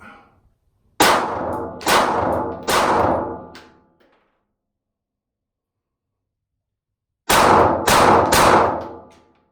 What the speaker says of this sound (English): I'm shooting a bunch of different ammo in it